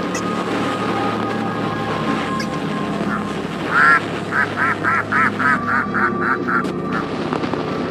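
Ducks in the video game Anatidaephobia quack in a rapid, evenly spaced run of about ten calls over a constant windy, watery background hum.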